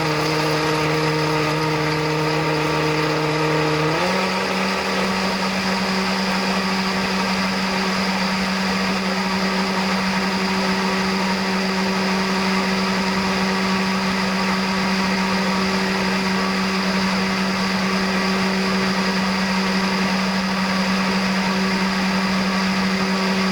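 A countertop blender runs steadily on a smoothie, its motor pitch shifting after a few seconds as it moves from puree up to a faster liquefy setting, then holding a loud, even whine throughout.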